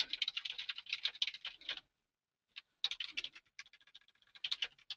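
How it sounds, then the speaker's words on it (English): Bursts of quick keystrokes on a computer keyboard, close and crisp, broken by a short pause before more irregular typing resumes. "Sometimes the typing part's the hardest part."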